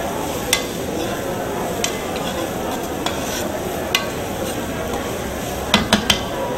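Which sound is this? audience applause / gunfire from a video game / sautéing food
sautéing food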